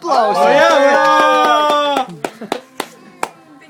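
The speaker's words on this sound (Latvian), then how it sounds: "Aplausi." After about two seconds of a loud, sustained tonal voice sound, a few sharp, separate hand claps ring out close by, spaced irregularly and fading in strength.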